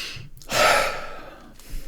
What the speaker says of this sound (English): I breathe that in.